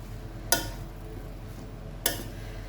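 Chickpea greens frying in a pan are stirred with a utensil, two distinct scraping knocks about a second and a half apart over a low, steady background hum, with no voices.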